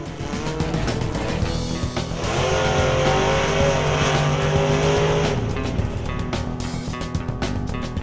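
D1 drift cars run a high-speed course that takes in a track's oval, with a loud, continuous engine roar, tire squeal and a swell as a car passes close, set against steady track noise.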